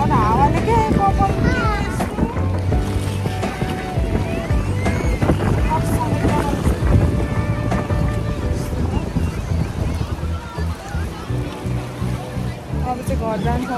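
Wind on Power Station Beach on Lamma Island, Hong Kong, roars and buffets the microphone continuously, loud and close, as a person talks over it.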